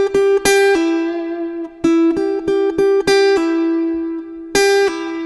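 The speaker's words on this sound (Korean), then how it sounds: "이거는 풀링 오프예요." Electric or acoustic guitar notes played with pull-off technique, a string plucked and then a fretting finger lifted to sound a lower note, in quick close bursts of two or three notes separated by short gaps, ringing clearly and alone.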